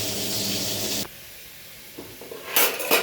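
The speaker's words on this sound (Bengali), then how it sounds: "এই যে তেলাপিয়া মাছ ভাজা হচ্ছে" Tilapia fish frying in oil in a pan, a steady loud sizzle that cuts off abruptly, followed by quieter kitchen clatter and a returning hiss.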